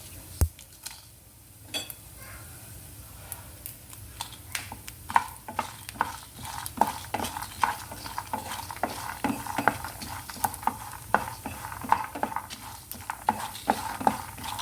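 Dried red chillies and roasted gram dal fry in a pan for peanut chutney, giving a steady soft crackle and patter. Frequent light clicks and taps of a spatula stirring against the pan run through it.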